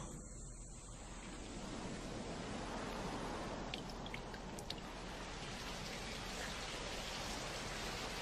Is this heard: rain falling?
yes